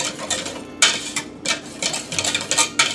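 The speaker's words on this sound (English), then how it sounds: "I'm just going to mix. I'm going to make sure that roux gets completely incorporated" A roux is stirred into milk or cream in a pot while making a béchamel. A utensil scrapes and clinks against the pot in quick, uneven bursts, close and fairly clear.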